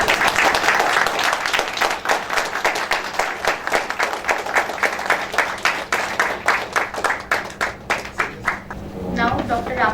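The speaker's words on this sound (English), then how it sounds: "Have a big round of applause" Sustained applause from the audience at an award function ahead of a lecture, a dense wash of many hands clapping loudly throughout, thinning into rhythmic clapping near the end as a voice begins to speak.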